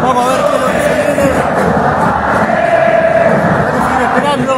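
A packed stadium crowd at Boca's ground before Boca vs Huracán claps and roars in a dense, loud, continuous wash of applause and voices that never lets up.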